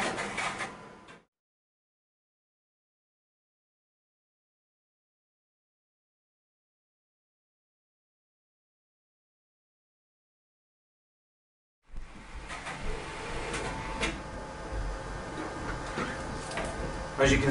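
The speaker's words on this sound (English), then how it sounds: "I've just sent it a 4-page job and asked for it to be saddle stitched." After a long stretch of silence, a Xerox Phaser 7760 office printer starts up with steady mechanical whirring, ticking and clicking as it folds and centre-staples a 4-page booklet.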